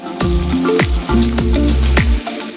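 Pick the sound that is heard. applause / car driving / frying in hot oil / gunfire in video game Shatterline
frying in hot oil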